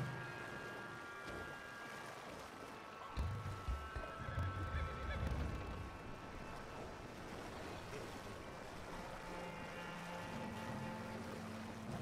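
Horses whinnying and splashing through water in the game Red Dead Redemption 2, several neighs rising over a steady wash of water and ambient game sound, with hoof-like thuds in the middle.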